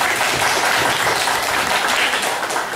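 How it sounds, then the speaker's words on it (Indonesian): Applause from a neighbourhood gathering at the inauguration of a community hall, a short burst of close, lively clapping from a crowd. "Tepuk tangan dong."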